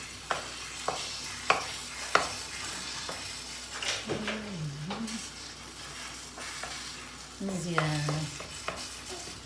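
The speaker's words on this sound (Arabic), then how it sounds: "خصني نبقى نحرك هكا باش طيب" Batter cooks in a pan while a utensil stirs and scrapes it in repeated strokes over a soft sizzle, with a few sharper knocks against the pan; a brief word is spoken.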